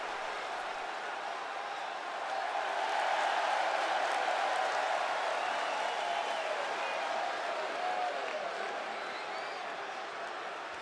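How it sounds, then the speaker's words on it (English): A large wrestling arena crowd roars and cheers for the tag team champions Demolition, a steady wash of noise swelling slightly mid-way, with faint applause and no clear talk over it. "Demolition getting a roaring reception from this crowd"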